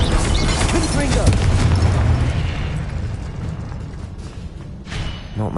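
A Confringo explosive spell goes off in Hogwarts Legacy as a loud, dense booming blast with heavy rumbling that slowly eases off amid busy game noise.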